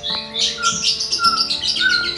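A caged orange-headed thrush gives harsh, repeated squawks mixed with short chirps, close and fairly loud, with no other voices.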